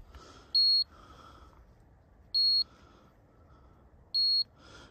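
Three short, high-pitched electronic beeps from an electric fence tester, spaced evenly about two seconds apart, clear over faint background noise.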